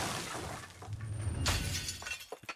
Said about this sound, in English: Breaking glass, breaking windows.